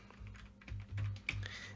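Computer keyboard keys pressed as shortcuts in the Godot 3 game editor, a close, dense run of soft typing clacks with one sharper keystroke near the end, over steady low background noise.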